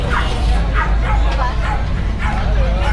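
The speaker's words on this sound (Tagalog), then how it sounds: "Tapos ang daming aso ni Kuya Lucho." Several dogs at a kennel bark and yip in quick repeated bursts, close and loud, with whimpering mixed in over a constant low hum.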